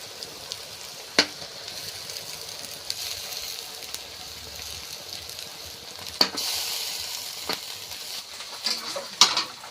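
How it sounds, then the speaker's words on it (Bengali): Garlic and ginger paste sizzles steadily in hot oil while a country chicken dish is cooked over charcoal, a close, constant frying hiss broken by a few sharp clinks of a spoon against the pan. "এবার রসুন বাটা আর আদা বাটাটা দিয়ে দিচ্ছি"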